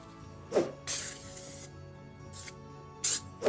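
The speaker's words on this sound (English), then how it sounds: "We're going to use nonstick spray." Nonstick cooking spray greasing a pan: several sharp, close bursts of hissing spray in irregular short blasts, separated by quiet gaps, with no talk.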